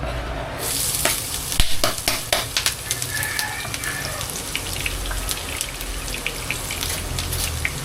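Aromatics hit a hot pan being readied for sautéing shrimp paste, bursting into a loud, dense sizzle with sharp crackles and pops over the first seconds, then settling into a steady frying hiss, with no talking.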